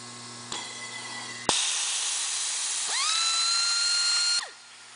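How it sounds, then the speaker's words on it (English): A heavy-duty pneumatic pistol-grip pull-to-pressure rivnut tool, model 6703, hisses with air as it upsets a rivet nut, then a rising whine as it spins to de-thread, the close, steady tones cutting off abruptly. "I'm going to hold the tool or trigger until it upsets the rivet nut, and then we'll automatically de-thread the rivet nut."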